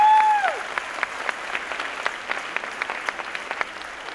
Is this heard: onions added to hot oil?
no